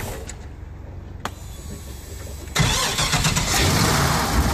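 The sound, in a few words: Excalibur V8 engine restarting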